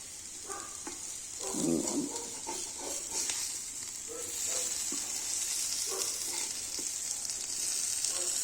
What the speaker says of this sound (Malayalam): അപ്പം നമ്മളെ മീൻ പൊരി ഇങ്ങനെ ആയിക്കോണ്ടിരിക്കുകയാണ്. നല്ലോണം പൊരിയിട്ടല്ലേ, നല്ലോണം പൊരിയുന്നുണ്ടോ.